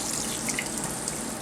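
Hot water running steadily from a sink tap, a continuous close hissing splash with no talk over it.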